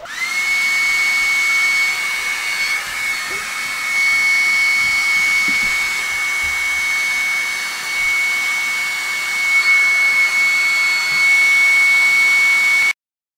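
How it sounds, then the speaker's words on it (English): A hair dryer blows steadily for about thirteen seconds, a loud close whine over rushing air, and cuts off abruptly at the end. "Now, blow dry that so it goes faster."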